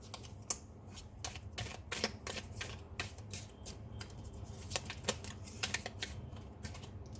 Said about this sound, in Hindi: वेट अ सेकेंड, शफल कर लूँ पहले अच्छे से।